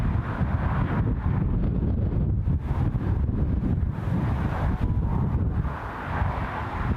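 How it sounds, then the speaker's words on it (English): Strong wind blows at Newcastle International Airport, a constant rough roar with gusts buffeting the microphone close up, and no voices. "Still pretty blowy here in Newcastle."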